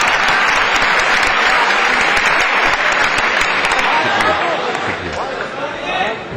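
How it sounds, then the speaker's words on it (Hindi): Loud sustained applause from a large audience at an Urdu poetry gathering, thick continuous clapping with crowd noise that thins slightly toward the end. "वैसा ही तालियों का जश्न होना चाहिए जैसा पहले हुआ था"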